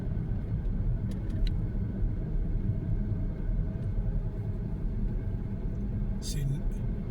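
A car driving through Boulder Canyon, a steady low road rumble and engine drone heard from inside, continuous and even throughout.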